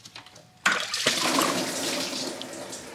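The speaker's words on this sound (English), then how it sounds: "Just let it all leak out before start removing the water pump." Coolant gushing out of the water pump of a 2007 Toyota Highlander Hybrid into a drain pan, a sudden steady splashing pour that starts abruptly and continues loudly.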